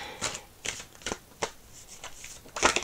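Several crisp papery flicks and slides as tarot-style advice cards are drawn from a deck, close and clear, spaced irregularly with a busier riffle near the end and no voices.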